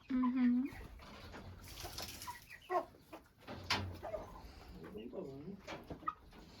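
Chickens cluck and birds coo nearby while a person talks softly in the background.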